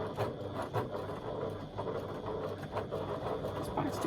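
A Classico MK2 sewing machine back stitches a few stitches at the start of a seam with a 3/8 inch allowance, a close, quick mechanical whirring pulse with light rubbing under faint room noise.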